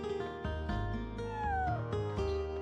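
A cat in the video game Chrono Cross gives a clear, close meow, followed by a few shorter mewing cries in quick succession, with no talk.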